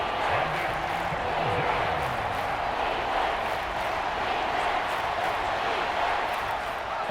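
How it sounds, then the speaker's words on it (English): Steady, dense roar of a football stadium crowd during a 2023 NFL game between the Vikings and Falcons, sustained and loud throughout with a faint voice murmuring beneath the noise. "A big play here as the crowd noise rises."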